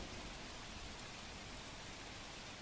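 Heavy rain pours steadily in Gir Somnath, India, four inches in two hours, a dense, even hiss with no breaks, loud and close throughout.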